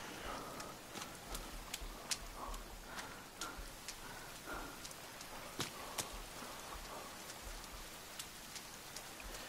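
Steady rain falls in the survival game The Forest, a continuous patter with sharp individual drops ticking across it, fairly quiet and without speech.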